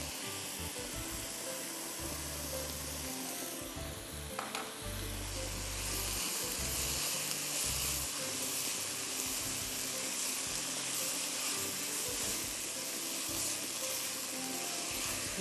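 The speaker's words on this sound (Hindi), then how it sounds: "प्याज को भी अच्छी तरह सौटे होने दीजिए" Onions sautéing in a pan for a lasagna meat sauce, a steady close sizzle and fry hiss throughout, with faint stirring scrapes and a brief louder crackle near the middle.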